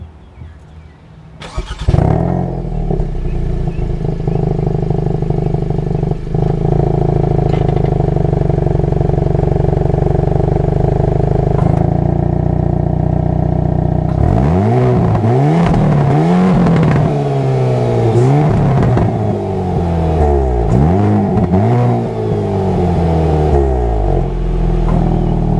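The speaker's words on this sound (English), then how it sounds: "let's take a listen to the actual exhaust" A 2023 Hyundai Kona N high-performance crossover idles loudly from the exhaust, then revs hard in repeated rising and falling bursts over the second half, close and with no talking.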